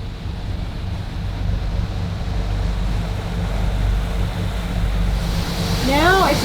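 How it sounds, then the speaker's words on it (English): Heavy rain pours down near Cape Bedford, a dense steady roar with wind buffeting close to the microphone, building slightly in intensity toward the end. "This is a good downpour."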